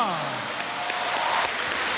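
Audience applauding graduates at a graduation ceremony, a steady dense wash of clapping filling the hall, moderately loud, with a tone sliding down at the start.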